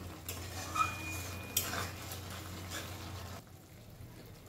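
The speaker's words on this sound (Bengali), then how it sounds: "এবারে একটুখানি সময় ধরে এটা নেড়ে নেড়ে একটু শুকিয়ে নিতে হবে" Shrimp and taro leaves stirred in a pan over a medium flame make a quiet, close scraping and light clinking of utensil on metal, with a soft faint sizzle beneath and no talk.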